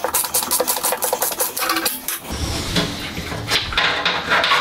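Ratcheting ring spanner undoing the motor bolts on a Bosch, Neff or Whirlpool washing machine, a rapid run of sharp clicking ratchet strokes, then scraping and rattling of metal parts close by.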